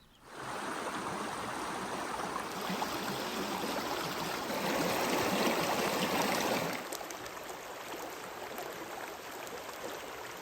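Cold creek water, swollen after rain, flowing and rushing steadily nearby in a continuous broadband wash, swelling louder midway before settling back, with no voices.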